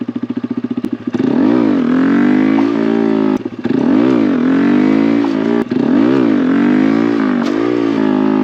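Honda Grom motorcycle engine revving hard in three long surges during wheelie attempts, each rising sharply, holding high, then dropping with brief gaps between bursts; loud and close, no talking.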